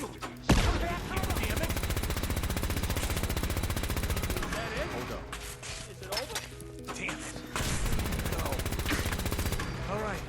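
Video game gunfire from Fallout 4, a dense and steady stream of rapid automatic shots mixed with booming blasts, continuous and loud with a brief lull midway, while a person talks over it.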